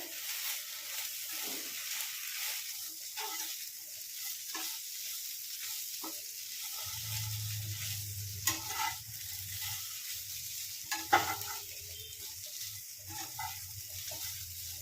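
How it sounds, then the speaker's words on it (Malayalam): Plantain pieces fry with pepper powder in a pan for a Kerala stir-fry, giving a continuous close sizzle with scraping stirs and a low hum joining partway through, and no voices. "കുരുമുളക് പൊടി ചേർത്ത് വാഴയ്ക്ക ഫ്രൈ ചെയ്തെടുത്താൽ"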